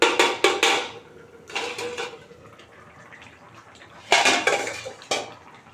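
A metal lid comes off a cooking pot of katla fish curry with potatoes, giving several sharp clinks and rattles in two clusters, with quieter clattering and a soft hiss between them.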